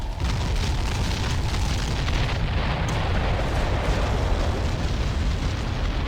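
Artillery bombardment in the strategy game Ground Control produces dense, continuous rumbling explosions, loud and sustained with overlapping booms and a heavy low-end roar.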